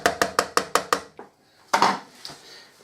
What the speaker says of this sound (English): Keep mixing it round so it's all mixed up. All the onions are mixed up with the mince.